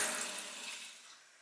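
Shower spray pouring onto a newly built floor for the first time, a steady broadband hiss of running water that starts loud and gradually eases off, with no voices.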